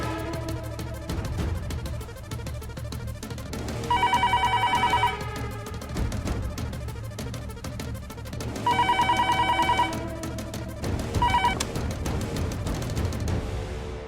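Telephone ringing during a call, an electronic ringtone in repeated bursts of about a second each, three rings spaced several seconds apart over a steady background.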